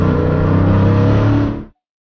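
Dodge Challenger SRT 392 V8 accelerating hard, a loud close roar with a deep steady tone that holds for about a second and a half and then cuts off abruptly.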